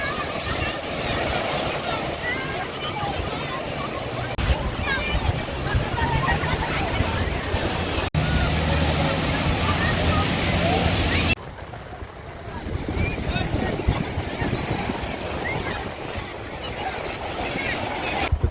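Sea waves breaking on a Konkan beach near Devgad, a loud continuous wash of surf mixed with heavy wind noise buffeting the microphone.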